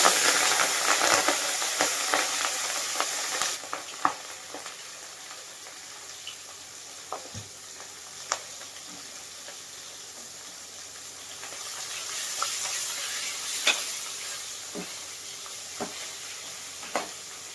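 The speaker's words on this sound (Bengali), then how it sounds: "তেলটা গরম হয়ে গেলে আমি মাছটা এক এক করে ভেজে নেব" Fish fries in hot oil with a steady crackling sizzle, punctuated by scattered sharp pops and spatters, loudest at the start and then settling to a calmer hiss.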